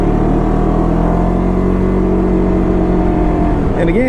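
A Can-Am Ryker 600 three-wheeler with a CVT pulls away on a quiet, wet back road, its engine holding a steady, loud, droning note at light throttle that rises slightly near the end.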